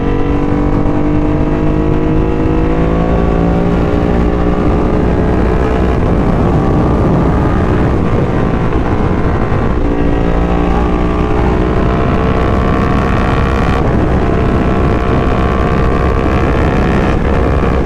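A Ducati Hypermotard 821's Desmo engine drones loudly and continuously while riding, its pitch rising and falling as the revs climb and ease off, with no voices.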